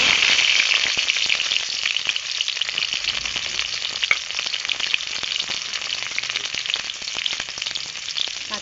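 Onions sizzling steadily in hot oil in a pan with whole cardamom and bay leaves, for a Bengali bhetki fish curry with new potatoes; a dense, close, continuous frying hiss with occasional stirring clicks and no talk.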